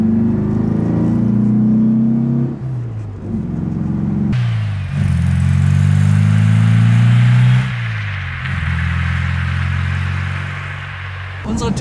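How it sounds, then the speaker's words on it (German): A 1964 Porsche 356 C Coupé with its 100 hp boxer engine growls loudly while driving, revving up through several gears with rising and falling engine pitch and a steady rumble. "Mit einem Boxermotor, der richtig brüllt, der Sound hat"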